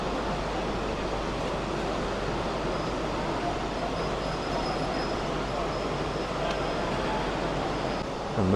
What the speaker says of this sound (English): catch the loco going past the mill building here